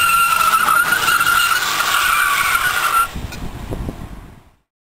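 A home-built electric car accelerates hard in second gear, its whine steady and loud with tire noise, before the sound cuts away abruptly and fades to silence.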